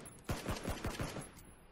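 Rapid automatic gunfire in the video game PUBG, about six sharp shots in quick rhythm followed by a fading tail, moderately loud with no talk over it.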